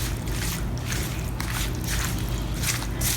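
A spoon stirs tomato pie filling mixed with sugar, making soft, wet squelching sounds in a steady rhythm close by.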